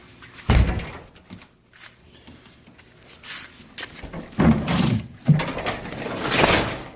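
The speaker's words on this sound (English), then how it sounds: "All right, so I'll close the door here in a sec." A door on a 1958 MGA being shut in a garage workshop, giving a loud thump near the start and two more heavy knocks toward the end, with quiet rustling between them.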